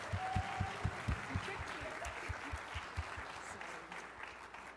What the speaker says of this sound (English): can everybody please give her a huge round of applause because she's awesome